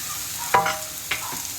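Vegetables with chicken being half-sautéed in a pan, giving a steady frying hiss with two sharp stirring scrapes, close and fairly quiet, no voices.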